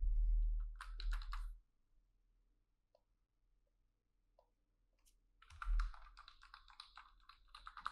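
Bursts of typing on a computer keyboard as an email address and password are entered at a login screen, a dense flurry of close clicking keystrokes at the start, a few isolated taps in a quiet middle stretch, then another rapid run near the end.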